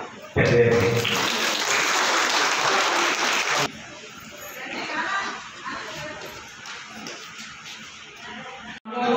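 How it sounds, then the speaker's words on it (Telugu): An audience applauds at a public event, a loud burst of clapping that stops abruptly, followed by quieter murmuring and talk. "అందరు చప్పట్లు కొట్టండి అమ్మా"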